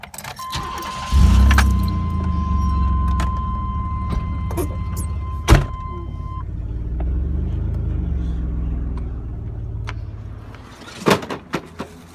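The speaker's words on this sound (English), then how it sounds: "we'll back the truck up to the utility trailer" A pickup truck starts and rumbles steadily as it reverses toward a utility trailer, its engine note shifting up and down, with a door thud midway and clanks and clicks near the end.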